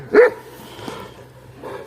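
Kangal dog giving a single loud, sharp bark near the start during an attack, followed by quieter background sounds and faint movement.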